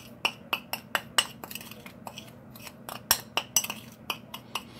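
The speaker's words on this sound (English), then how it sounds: "I'm going to mix all of this together." Seasonings for Dominican pork pernil being mixed in a dish, giving a steady series of sharp metal-on-ceramic clinks and taps, close and fairly quiet, with no talking.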